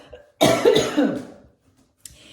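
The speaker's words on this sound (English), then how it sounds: "I'm going to cough." A single harsh, close cough in a few rapid bursts, followed by silence and a short sharp sound at the end.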